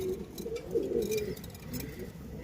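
A pair of Blacklace satinette pigeons coo nearby, soft low throaty calls rising and falling over a quiet background.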